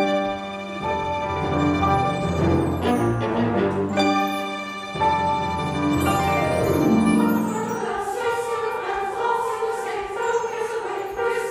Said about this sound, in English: None have proclaimed good news and celebration to the people more than bells.